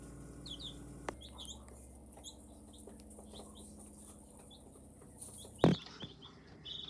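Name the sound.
chickens clucking, new hens and roosters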